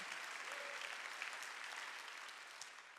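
Steady applause from a church congregation at a Sunday worship service, a dense continuous clapping that fills the whole stretch at an even level with no talk over it.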